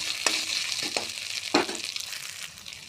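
Whole dried red chilies frying in a pan for a fish and potato curry: a low hiss of hot oil, with a few sharp spatula scrapes and taps as they are stirred.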